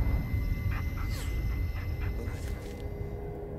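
In the Blair Witch video game, the dog Bullet whimpers and yips anxiously in a few short bursts over a low rumbling ambience, fairly close.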